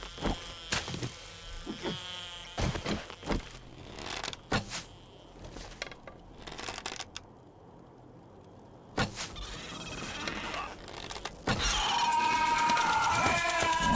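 Hornets buzz in the survival game 7 Days to Die, a wavering insect drone with sharp clicks and thuds scattered through it, fading to a quiet stretch before a louder, steady hum at the end.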